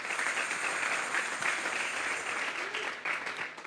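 A church youth service congregation bursts into loud, sustained applause, dense clapping that continues steadily for several seconds with no pause.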